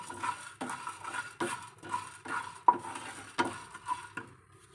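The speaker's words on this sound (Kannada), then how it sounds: "ಎಣ್ಣೆ ಏನು ಹಾಕಲ್ಲ ಹಾಗೆ ಡ್ರೈ ಆಗಿ ಹುರ್ಕೊಳ್ತೇನೆ ನಾನು" Spices dry-roasting in a pan without oil, stirred in a rhythmic series of scraping strokes about every half second, close and moderately quiet.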